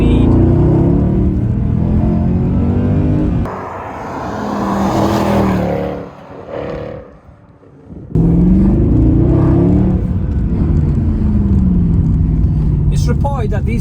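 A Mercedes C63 AMG W204 engine with a 7-speed MCT gearbox, roaring loudly and steadily, dropping away for a few seconds midway before surging back strong, while someone talks over it.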